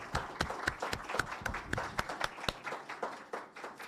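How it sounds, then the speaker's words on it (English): A small audience at a data privacy conference claps: distinct, fairly sparse hand claps in an uneven rhythm, moderately close and fading slightly toward the end, with no speech. "let's give them a round of applause"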